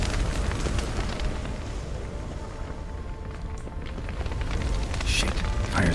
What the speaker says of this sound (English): fire's spreading